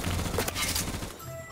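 Gunfire in the shooter game Phantom Forces, a dense burst of overlapping shots and blasts that fades out after about a second, loud and close.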